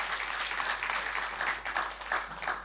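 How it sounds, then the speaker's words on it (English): Audience applause at a cycling tour media launch, a steady wash of clapping from a moderate-sized crowd that holds at an even level throughout without talk. "Give her a round of applause, warm round of applause."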